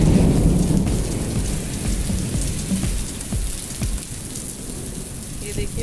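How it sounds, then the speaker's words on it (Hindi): Heavy rain pours steadily in Makkah with low rumbles of thunder beneath it, a dense continuous wash that is loud and close throughout. "ये देखिए बारिश बहुत तेज़ है"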